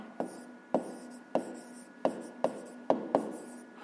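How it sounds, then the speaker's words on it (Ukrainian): Pen or pencil writing by hand in a notebook, with seven distinct strokes or taps at an uneven rhythm over a faint scratching texture, close and quiet, no talking. "Ну, а тепер записуємо відповідь."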